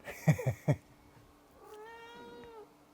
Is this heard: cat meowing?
yes